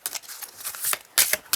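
Playing cards being shuffled in a few quick riffling bursts, close and fairly quiet, with no talking.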